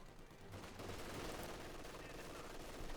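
Sustained automatic gunfire from a machine gun team in Company of Heroes 2, a dense continuous rattle layered with other battlefield shooting and distant blasts, with a commentator's voice faintly underneath.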